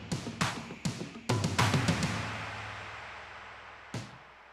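A pre-recorded percussion backing track plays alone: a handful of sharp, booming hits in an irregular pattern, each ringing out and decaying, with a long fade after the final strike.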